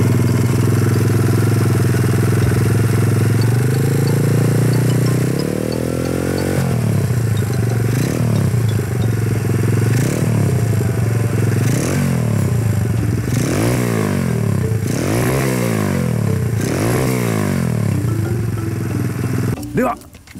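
Motorcycle engine fitted with a Chinese copy PC20 carburetor revs repeatedly, climbing in pitch in several loud bursts that rise and fall over a steady idle, close by and continuous.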